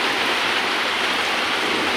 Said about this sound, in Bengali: দেখতে পাচ্ছেন কতটা বৃষ্টি পড়ছে